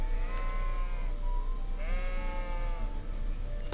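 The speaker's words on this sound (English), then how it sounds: "Sheep." Sheep in Kingdom Come: Deliverance bleat in repeated wavering calls over a steady outdoor game ambience, one long call early and another near the middle, fairly close and clear.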